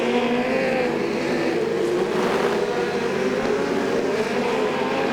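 Speedcars racing at Archerfield Speedway during an Australian Speedcar Title night, with the leader driving a Ford, a continuous loud engine roar that holds steady throughout, the pack heard from a distance without any break.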